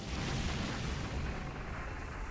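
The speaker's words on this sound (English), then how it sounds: "Volcanus is just hearing the explosions go off in the background as we make our way to him." Rumbling explosions from the video game Disgaea: Hour of Darkness, a dense continuous roar of blasts and booms going off in the background, steady and fairly quiet with no talk.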